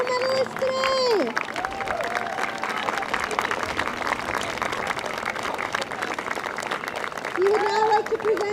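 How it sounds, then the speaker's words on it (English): Crowd applause for medalists at a youth field hockey national tournament, sustained clapping from spectators with background chatter, a voice speaking briefly at the start and again near the end over the clapping. "One big final round of applause for our medalists today."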